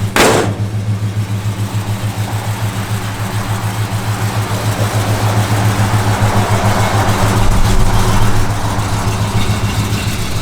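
A 1969 Plymouth Road Runner with a lumpy cam idles steadily and close by, its deep rumble holding a rough, loping rhythm with a slight rise in revs partway through and no talking over it.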